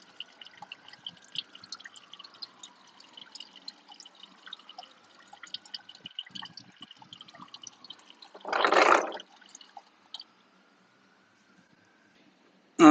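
Engine oil from a Can-Am Spyder drains and drips into a pan during an oil change, faint irregular drips and a thin trickle, then a short louder splash.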